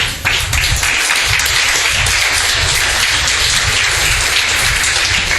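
Strong, steady applause from a church congregation during an evangelistic revival service, dense and continuous at close range for several seconds with no talk over it.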